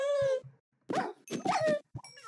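A dog in a video game whimpers and whines as it is attacked: several short, tonal, high-pitched cries separated by brief pauses, fairly close and clear, with no talking.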